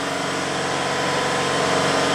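Steady Nissan S13 CA18DET engine idling nearby, a continuous low rumble with a regular pulsing throb and no other sounds.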